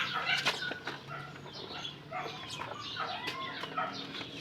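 Backyard pullets and stags cluck and squawk up close while being bathed, with brief wing flaps mixed in among the calls.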